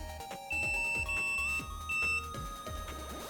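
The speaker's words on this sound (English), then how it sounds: "I hear the beeping and I think it's UPS." A UPS battery backup gives off repeated electronic beeps, short steady tones in a few bursts over a low background hum, moderately clear and not very loud.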